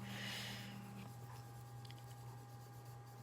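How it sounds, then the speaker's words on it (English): A coyote drawing being colored in, with soft, faint scratchy strokes of a coloring tool rubbing on paper over a steady low hum. "So I'm just adding little color in, little color in."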